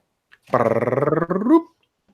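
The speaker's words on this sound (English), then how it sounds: "My dog is telling me it's time for a walk" A pet dog at home growls and whimpers, wanting a walk: a close, pulsing rumble of growls runs about a second, then breaks into a higher whiny moan before fading to quiet.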